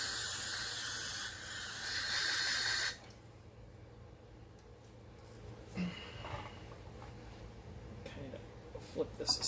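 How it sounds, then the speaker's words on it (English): An aerosol cleaner hisses steadily for about three seconds, close and fairly loud, as it is sprayed into the throttle blades of a Honda CM450 motorcycle carburetor that had sat for ten years, followed by quiet handling noises. "I can just kind of spray these out"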